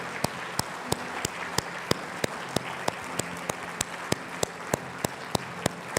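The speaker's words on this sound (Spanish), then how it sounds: "Denle un aplauso al Señor." Sparse, evenly spaced claps ring out at a church service, a congregation applauding in steady single hand strikes over a soft hiss, with no talk.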